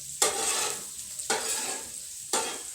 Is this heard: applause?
no